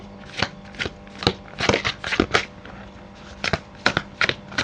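Tarot cards being shuffled by hand in a series of crisp riffling bursts, some short and some clustered, close and fairly loud with brief pauses between.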